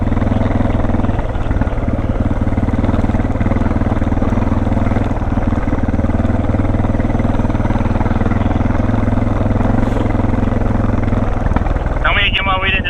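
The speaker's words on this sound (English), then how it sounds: "Some gnarly dual sport riding." Suzuki and Honda dual sport motorcycles ride off-road down an Appalachian mountain trail, their engines forming a loud, close, unbroken drone. A brief voice comes in at the very end.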